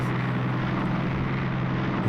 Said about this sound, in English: Planes are coming in.